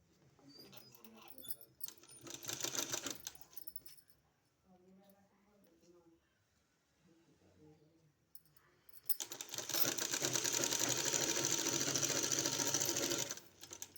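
A sewing machine stitches the hem of a kurti in two loud, steady bursts of fast mechanical whirring, separated by a stretch where someone talks quietly.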